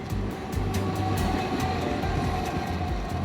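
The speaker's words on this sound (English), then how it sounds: "Just passing another one of the iron ore trains." A long iron ore freight train hauled by two locomotives rolls steadily past on a Norwegian railway line, with close, loud rumbling and rhythmic wheel clacks repeating throughout.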